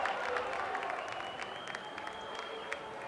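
A high school basketball crowd at a tournament game cheers and applauds in a gym, a sustained wash of clapping and shouting with a few sharp whistles and shoe squeaks, moderately distant.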